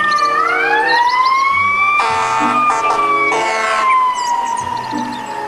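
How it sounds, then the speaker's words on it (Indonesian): A toy fire truck siren wails loud and close in rising and falling electronic tones, with harsh buzzy bursts in the middle of the sequence. "Mobil pemadam kebakaran."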